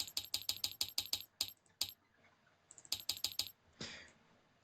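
Rapid bursts of clacking keystrokes on a computer keyboard, a quick run of about ten taps, a pause with a few more, another cluster, then a softer shuffle at the end; close and clear with no talking.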